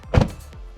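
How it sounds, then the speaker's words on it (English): A McLaren Mercedes SLR door is pulled shut, a single soft, close thud followed by a brief mechanical whir as it settles. "Let's close the door. Just reach over, pull down."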